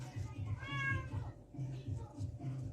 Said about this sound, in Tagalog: Ingay ng mga pusa ko.